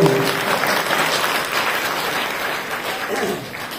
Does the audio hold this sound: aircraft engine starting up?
no